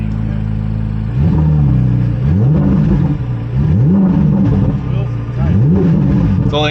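A 2023 Corvette C8 Z06 engine revs up three times in sport mode, each a rising snarl that falls back to a loud idle, close by with voices talking in between.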